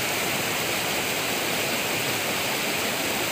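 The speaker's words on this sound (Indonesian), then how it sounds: "Ini banjirnya sudah datang" Rain-fed lahar flood water rushing below the Gladak Perak bridge on Semeru, a dense, loud, unbroken roar of churning water filling the whole clip, with no talking.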